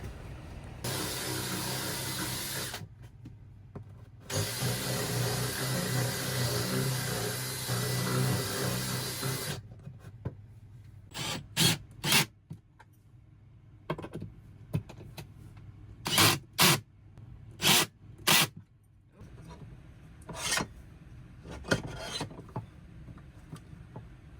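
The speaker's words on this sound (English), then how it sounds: "right now I'm just widening these a little bit to make sure the bolts go all the way through" Power drill widening bolt holes during a Toyota Coaster campervan conversion: two long whirring runs, then a string of short sharp bursts and knocks, close up with no talk.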